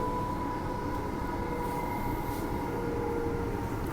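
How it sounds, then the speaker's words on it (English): Trains parking in a rail depot make a continuous steady rumble with a faint tonal whine running over it, fairly close and unbroken throughout. "It's just some trains parking in the depot here."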